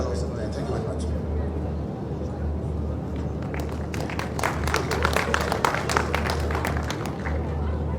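An audience at a live event applauds, with loose clapping that swells into a denser burst of sharp claps midway through. Crowd murmur and speech run underneath, over a steady low hum.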